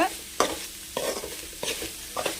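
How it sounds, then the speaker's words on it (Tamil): Coriander rice being stirred and mixed in a hot pan: four or five distinct spatula scrapes at a steady rhythm over a light, close sizzle, with no voices. "நல்லா மிக்ஸ் பண்ணி விட்டுடலாம்"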